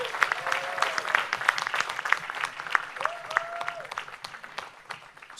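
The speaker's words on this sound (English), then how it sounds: "Please give everyone a round of applause." An audience claps at a pitch competition, a crisp ripple of many hands that holds fairly steady and then thins out toward the end.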